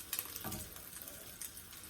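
Crab cakes frying in oil in a pan, a quiet steady sizzle with small crackling pops and a brief stirring or shifting sound near the start.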